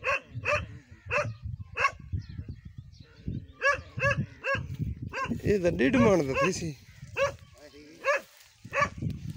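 A dog barks repeatedly in sharp, evenly spaced bursts, fairly close, while people talk over and between the barks in a busy outdoor setting.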